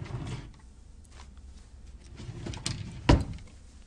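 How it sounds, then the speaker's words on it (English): A drawer slides open in a quiet room, a short scraping rumble that ends in one sharp knock near the end as it stops. "Let me open this drawer to get your prizes."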